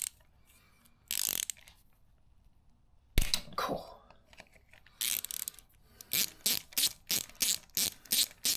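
A hand tool undoes a bolt on the cam gear of a Honda Wave 110i motorcycle, giving a loud clack and then a run of quick, evenly spaced ratchet clicks close up in a quiet room.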